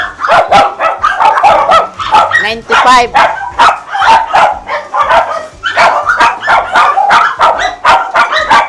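Several small dogs bark and yip in quick, overlapping bursts close by, while a person talks over them throughout.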